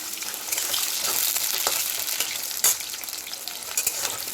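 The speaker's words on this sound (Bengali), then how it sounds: "এরপরে কড়ার মধ্যে দিয়ে দেবো একটু তেল, একটা গোটা শুকনো লঙ্কা, একটু কালো জিরে দিয়ে আলুগুলোকে ছেড়ে দেবো।" Potatoes frying in oil in a kadai with a whole dried red chili and nigella seeds, a loud, steady sizzle close up with occasional sharper crackles and stirring scrapes.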